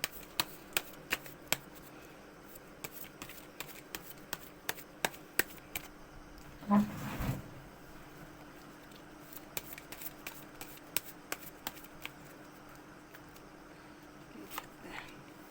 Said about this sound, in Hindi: कार्ड को अच्छी तरह सफल करके फिर देखते हैं